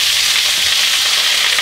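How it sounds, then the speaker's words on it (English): Cold rice stir-fried in a big wok gives a loud, steady sizzle and hiss throughout, with faint scraping as it is tossed. "This big wok allows me to fry quite a lot of rice at one time."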